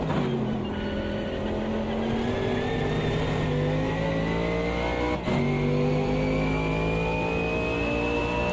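A race car engine laps the Bathurst track in a VR racing game, revving hard and climbing steadily in pitch as it accelerates down the straight, loud and continuous with a brief gear-change dip midway.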